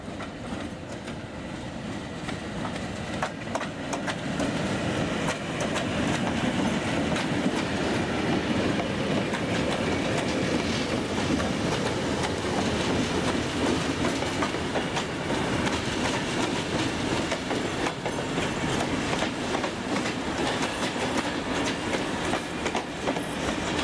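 Steam locomotives rolling into Moss Vale Station, New South Wales, with continuous rumbling and rhythmic clickety-clack of wheels over rail joints, steady and fairly loud throughout.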